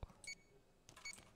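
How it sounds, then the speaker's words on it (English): Faint electronic beeps in the GTA 5 video game, two short bursts of high bright tones about a second apart, quiet and isolated. "What's that beeping noise?"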